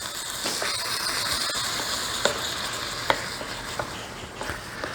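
Milk is stirred into a flour mixture in a pan to start a roux, giving a continuous bubbling sizzle with scattered scraping clicks of the spoon, close and fairly loud, with no speech.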